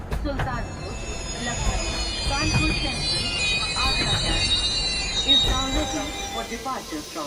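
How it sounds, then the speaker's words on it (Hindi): A passenger train pulls into Banaras Junction at night, wheels squealing in long high whines over a steady rumbling clatter of rolling cars, loud and close. "रात के 12:35 पर ट्रेन बनारस जंक्शन में दाखिल हुई।"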